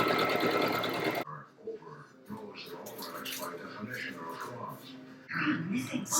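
A sewing machine stitches a sleeve in a short, loud, fast whirring burst at the start, followed by quiet talk and then a brief second run at the end.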